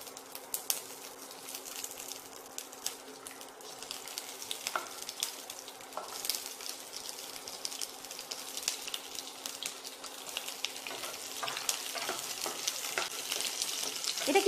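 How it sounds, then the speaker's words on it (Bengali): Capsicum hits hot oil and keeps frying in a steady, fairly quiet sizzle, with scattered stirring scrapes and clicks throughout; a faint bird call sits in the background. "এবার আমি ক্যাপসিকামটা দিচ্ছি।"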